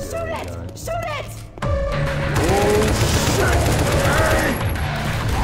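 Heavy gunfire from Left 4 Dead 2 rattles continuously as a dense fusillade, loud and close, with people talking and shouting over the shooting.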